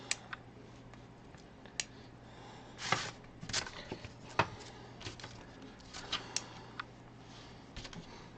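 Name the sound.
magnets clicking in a miniature Imperial Knight model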